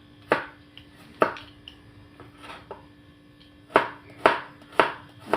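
A sharp knife chops garlic on a board for a buttery lemon shrimp dish: about eight crisp, close taps in uneven bursts, a couple of softer knocks between them, and no voices.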